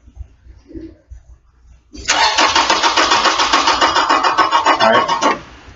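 Car engine cranking over on the starter during a battery cable test, a loud, steady rhythmic churning that runs for about three and a half seconds after quiet background noise, then stops abruptly.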